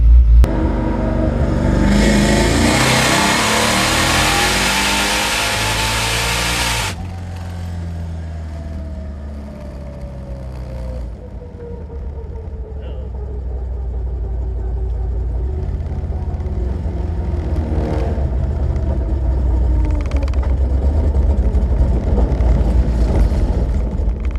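Dodge Hellcat accelerating hard on the street, a loud close engine roar rising through gears with a sharp shift break, then settling into a lower rumbling cruise and building again.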